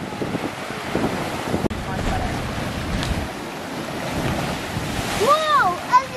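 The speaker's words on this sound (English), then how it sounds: "Little waves, man." Small waves break and wash against a rocky lake shore in Door County, a continuous rolling surf heavily buffeted by wind on the microphone, with a brief vocal sound near the end.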